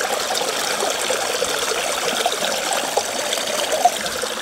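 Water rushes steadily through a fluid bed gold sluice classifier, a continuous broadband trickling and splashing flow with no pauses, close and moderately loud, with no voices over it.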